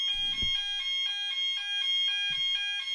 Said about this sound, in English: Is that a fire alarm? That sounded very much like a fire alarm.